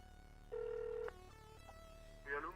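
Telephone ringing on the line with nobody answering, a short ringback tone pattern with faint electronic beeps, quiet and unanswered.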